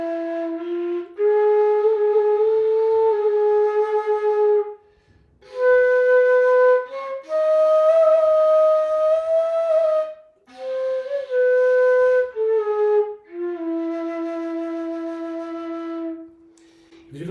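A sustained, voice-like melodic line in the Bhairav raga, known as the Hijaz makam, moves through phrases of held notes and bending half-steps, broken by short pauses.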